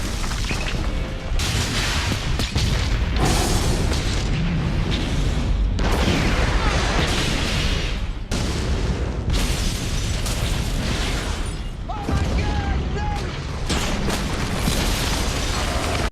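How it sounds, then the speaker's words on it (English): Huge mansion explosion from the action film Bad Boys 2, a sustained roar of blasts, booms and crashing debris, loud and continuous with several fresh bursts throughout. "The Cuban Mansion Explosion."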